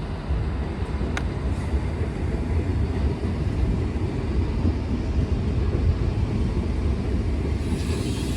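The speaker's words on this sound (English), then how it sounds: "And now I'm gonna go get on a train." A suburban train runs along a street-running line in Budapest, a steady broadband rumble that holds loud and continuous throughout, with no voices.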